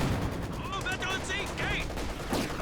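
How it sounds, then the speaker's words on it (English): Rapid machine gun bursts crackle across a Company of Heroes 2 battlefield, steady and loud against other combat noise, with a commentator talking over the gunfire. "The sniper takes some more damage from the machine gun"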